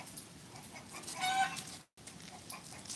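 A hen clucks and squawks in agitated bursts, loudest in the middle, somewhat distant with room ambience around it and a brief dropout near the end.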